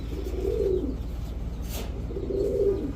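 A Tiger Giribaj pigeon gives two low, rolling coos a couple of seconds apart, close and fairly soft over a quiet background.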